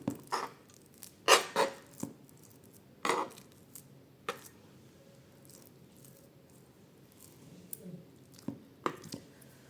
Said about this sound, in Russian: Смачиваю ложку водой и хорошо утрамбовываю.